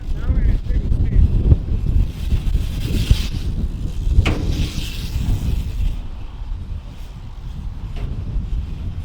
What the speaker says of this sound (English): Oh, the wind is crazy.